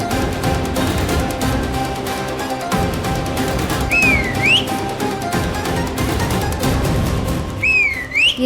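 A whistle blown to call people, two short rising shrill tones a few seconds apart, heard over a dense background of dramatic music and sound effects.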